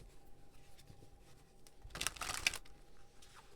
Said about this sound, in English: We're going to clarify these Akashic Tarot cards, if I could shuffle today